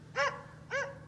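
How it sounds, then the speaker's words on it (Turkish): A hunting dog gives two short, bright barks about half a second apart, at moderate distance over a low steady hum, with no talk. "Rafi, köpek avlıyor, duyuyor musun?"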